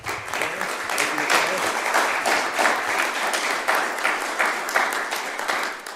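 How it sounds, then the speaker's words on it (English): A crowd at a mayor's news conference claps steadily and fairly loudly, the applause holding unbroken and even for several seconds. "Nice applause."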